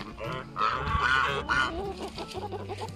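Free-range Barred Rock hens in a navel orange orchard honk and cluck in a noisy, overlapping cluster close by, loud bursts of squawking calls through the whole moment.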